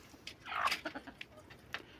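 Hens in a henhouse pecking at freshly brought feed, with soft scattered clucks and a few short calls close by, while a rooster stands nearby.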